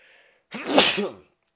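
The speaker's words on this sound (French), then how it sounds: "ils sont mortels, hein, mes éternuements" A single loud, close sneeze from a person, a sharp burst that fades within about half a second, with no talk around it.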